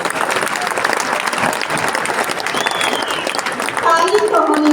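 A large indoor crowd at a leaders' promotion event claps loudly and continuously for the team, a dense sustained applause that swells slightly near the end, with cheering voices mixed in.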